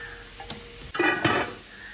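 Cooking oil is poured into dal in a pot, bringing a faint clink followed by a brief rush of hissing sizzle that rises and fades within a second or so, heard close with no talk.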